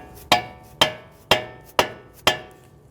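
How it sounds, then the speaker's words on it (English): Five evenly spaced sharp hammer taps on the end of a CV axle being seated into the transmission of an Infiniti G37x, close and crisp with brief ringing decay, with no speech. "we're going to tap on the end here, and we want to get that axle to set inside the transmission up against the metal seal."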